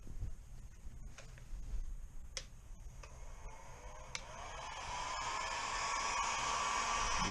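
A heat gun warms plastic with a steady airy hiss that grows louder and brighter toward the end. A few faint ticks and clicks are heard alongside it, with no talking.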